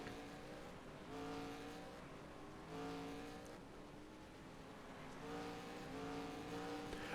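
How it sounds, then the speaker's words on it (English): Stock cars racing in the FARCA Premier Series Burger King 200, engines with Elmore power droning and swelling as several cars pass in waves, heard fairly faint and distant. "Love the new sounds of these Elmore engines that we have on board."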